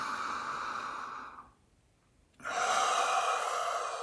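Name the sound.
deep breath inhaled and exhaled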